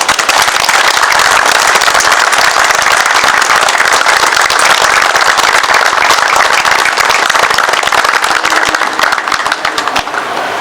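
A crowd claps steadily and densely at a ceremonial fire truck handover, loud and sustained throughout with no talking.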